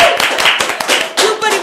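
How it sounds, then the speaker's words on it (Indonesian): An audience claps in a short burst of quick, close, irregular hand claps, with some voices mixed in underneath. "Tepuk tangan lagi."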